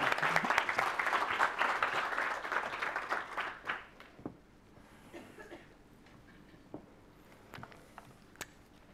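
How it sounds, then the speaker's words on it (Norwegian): Seminar audience at an IPCC climate event breaks into dense applause, loud and sustained for about three seconds before thinning to scattered claps, then settling into quiet room noise with a few isolated knocks. "En god applaus."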